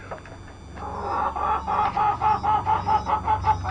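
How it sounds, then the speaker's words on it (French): Agitated chickens cluck in a rapid, rising run of squawks, loud and close, growing busier toward the end. "Les poulettes super énervées."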